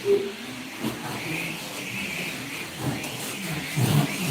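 Small slot car electric motor whirring on a track, a fluctuating mid-pitched whine with brief swells, close by, with no talk over it.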